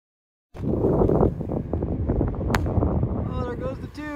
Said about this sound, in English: The wind is blowing at us this way.